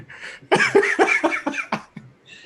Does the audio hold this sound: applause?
no